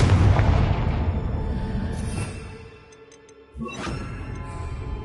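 Confringo fire spell in Hogwarts Legacy bursts with a heavy, rolling boom that decays over a couple of seconds, followed by a second sharper crack and fizzing tail, loud and near.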